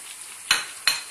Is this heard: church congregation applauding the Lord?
no